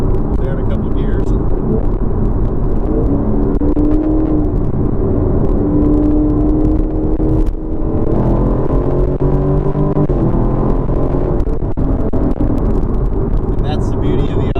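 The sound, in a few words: 2016 Chevrolet Camaro SS engine, downshifting through a turn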